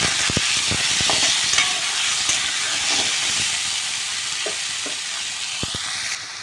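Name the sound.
onion, tomato and ginger frying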